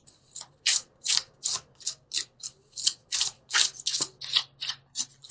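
Angel tarot cards are shuffled close by in quick repeated bursts, about a dozen crisp riffling swishes in a steady rhythm, with no talking.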